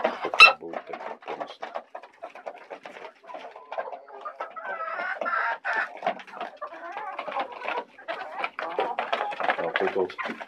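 Jersey Giant and Legbar hens cluck and chatter continuously close by, scratching about among boxes in a coop, with occasional sharp calls and a person talking over the flock.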